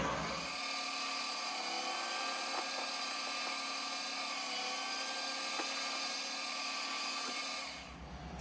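A lathe cuts a chamfer into an aluminum hubcap for an Aeronca KCA scale model airplane, giving a steady high-pitched whine with a faint tonal ring that holds for about seven seconds and then stops.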